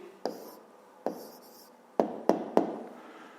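Pen or pencil strokes on paper jotting down the answer to a fifth-grade arithmetic-mean exercise: five short, sharp taps and scratches, close and distinct, spaced irregularly over a quiet room.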